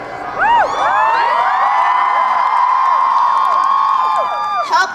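A large rally crowd at the March for Our Lives in Washington, DC screams and cheers loudly and continuously, with many high, overlapping voices whooping in a sustained roar that swells near the end.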